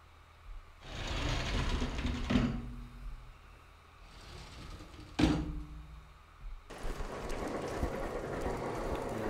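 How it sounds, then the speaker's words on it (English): Train carriage door opening in the video game Resident Evil 0, a sliding rumble and metallic clanks, with a sharp clunk midway and rolling train noise returning after, moderately quiet with no talk. "And we can open up this door right here."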